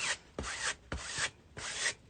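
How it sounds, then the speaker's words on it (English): A brush spreads a thick glob of Thermoweb liquid vinyl across a book cover, giving four steady, close rasping strokes with brief pauses between them and no voices. "And I just start painting."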